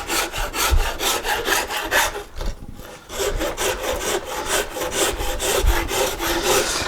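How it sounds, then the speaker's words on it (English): A wood rasp carves a guitar neck in steady, rhythmic back-and-forth strokes, close and fairly loud, with one brief pause midway before the scraping resumes. "Now that I'm pretty close with my rasp, I'm going to switch to my file"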